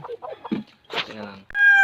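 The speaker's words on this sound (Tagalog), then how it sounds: "Ito yung mga alaga nating Rhode Island na manok." Rhode Island chickens feeding give a few soft, close clucks mixed with brief voices talking nearby, ending on a sustained higher tone.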